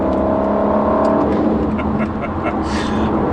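An Aston Martin Vantage engine revs hard under acceleration, a loud close roar with a droning tone that drops as the gear changes, followed by rougher exhaust noise.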